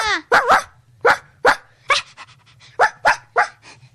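A dog barks in a quick series of close, loud yaps, roughly nine sharp bursts in four seconds, with light panting and a low hum between them.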